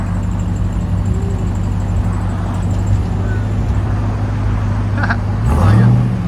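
A 700hp RAM TRX truck with a loud exhaust rumbles steadily at close range, holding a deep idle and swelling slightly near the end, with voices nearby.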